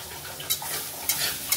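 Pointed gourd (potol) sizzles as it is stirred and fried for doi potol, a steady hiss broken by three sharp scrapes of a utensil against the pan.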